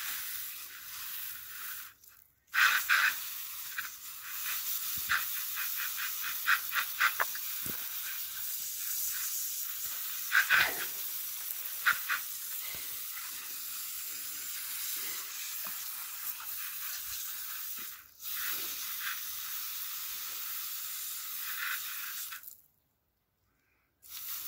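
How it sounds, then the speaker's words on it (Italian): Potatoes are rinsed in a colander under a running kitchen tap: a steady hissing stream of water with brief clattering splashes, broken by a couple of short pauses and stopping near the end. "Ora sciacquiamo le patate."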